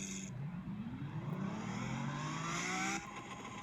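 Simulated Lamborghini Aventador S engine in a Roblox game revving, a synthetic tone sweeping steadily upward in pitch for a few seconds before cutting back abruptly, alone with no talk.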